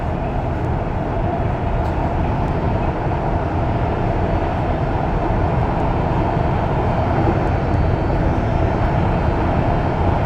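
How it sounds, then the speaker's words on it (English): An electrical brake mechanism on an REM light-rail train gives off a continuous buzzing drone, heard from inside the moving car over steady rumbling running noise. "And that sound you hear, that buzzing, from what I've been told, it's the brakes."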